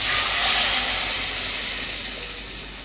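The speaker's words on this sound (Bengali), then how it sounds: "এবার ডালটা ছেড়ে দিচ্ছি" Kalai dal (lentils) dropped into a hot pan give off a loud, steady steam hiss that swells briefly at the start and then slowly fades, close up, with no talking.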